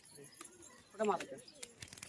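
A giribaj pigeon gives a short burbling coo at close range inside a loft, with faint chirps and rustling around it and a quiet voice in the background.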